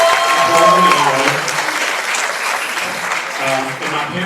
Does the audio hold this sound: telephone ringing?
no